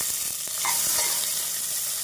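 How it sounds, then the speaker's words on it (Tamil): Steady hiss and crackle of chopped onions frying in hot ghee for biryani, with a few light scraping stirs. "நன்றாக பொரியவும் நறுக்கிய வெங்காயத்தை சேர்த்து விடலாம்."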